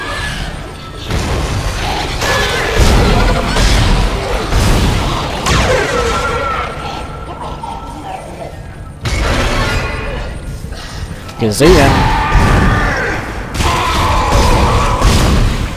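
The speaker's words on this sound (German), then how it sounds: "Das waren, glaube ich, 2 Schüsse zu viel." Gunfire in the Dead Space video game, with several sharp, loud shots and crashing impacts among mechanical game sounds, and someone speaks briefly over it.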